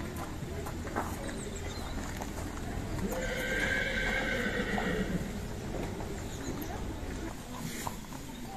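A pony at a show-jumping competition neighs loudly in the middle of the clip, with hoof clip-clops and faint voices in the background.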